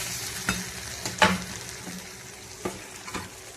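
Potatoes and fenugreek fry in a pan with a low, steady sizzle, broken by a handful of spaced spatula scrapes and taps, near and unaccompanied by voices.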